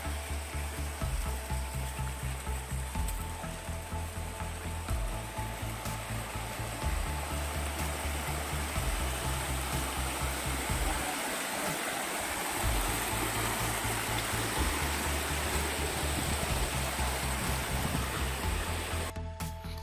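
River water from the Albufera de Anna, channelled through a drain and falling into a pool, rushes in a constant loud roar, with a low mechanical pulsing underneath throughout.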